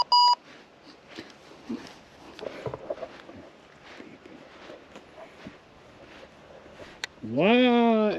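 A handheld electronic device warns of a low battery with a short bright beep at the start and a longer, louder rising tone near the end, over wind and footsteps on a walk along sugar sand in Blackwater River State Park.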